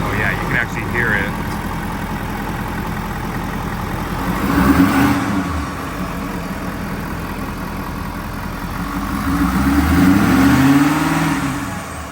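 A 2021 Ford F350 Tremor pickup engine with a new Banks Ram-Air intake idles steadily, then revs up twice with rising roars; a person speaks briefly near the start.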